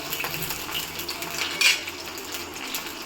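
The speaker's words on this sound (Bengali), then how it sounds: "একটু নেড়ে চেড়ে দিব।" Bottle gourd peel mash stirred with a spoon in a pan, a steady soft scraping and clinking of metal on metal with one brighter clink near the middle, close and alone.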